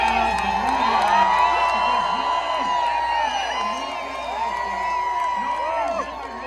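A large outdoor political rally crowd in the desert cheers and whoops continuously, with shouts and scattered applause rising and falling in a dense, far-reaching roar.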